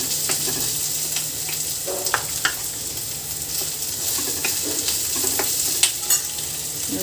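Chilli chicken is sautéed in a pan, making a loud, steady close sizzle with repeated spatula scrapes and taps scattered throughout, and no voices.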